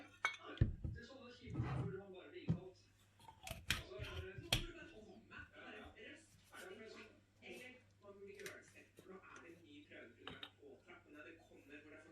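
A metal spoon clinks against a bowl while a spoonful of olive oil is added for a homemade hair mask, several quiet sharp taps near the start amid soft handling noises and a person talking.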